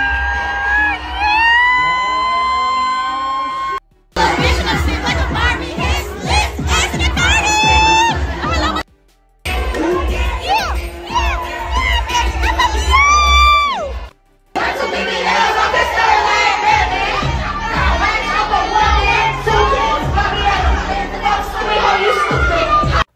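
A crowd whoops, screams and cheers loudly at a performance at the Candy Shop, with excited shouting and chatter in several bursts separated by brief cuts.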